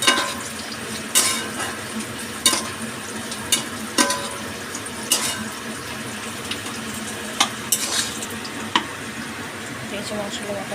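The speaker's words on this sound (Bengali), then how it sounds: "এই দেখো পেঁয়াজটা ভাজা হয়ে গেছে। এর মধ্যে মশলা দিয়ে দেবে।" Onions frying in a pan as spices are stirred in for a home-cooked chicken dish, a steady sizzle broken by repeated sharp scraping clatters of the spoon, with talk around it.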